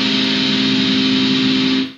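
Heavily distorted electric guitar sustains a dense, loud wall of sound for a black metal exercise, one continuous droning chord held steady for about two seconds before cutting off, close and without any talking.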